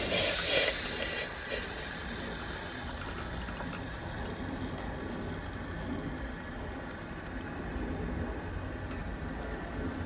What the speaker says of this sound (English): so my kettle's boiling